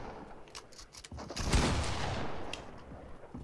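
Gunfire in the Fortnite video game, a rapid burst of shots swelling into a loud, sustained blast of noise that slowly tails off, mid-distance, with no talking.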